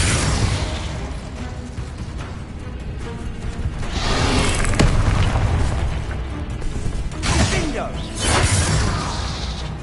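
Spell casts in Hogwarts Legacy crack and burst as fiery blasts and explosive pops in rapid succession, loud and layered, with booming impacts throughout.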